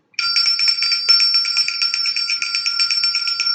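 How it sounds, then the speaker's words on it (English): A bright, high electronic bell tone rings continuously with a rapid trilling pulse, loud and close, holding steady for several seconds without voices. "Let me ring my bell."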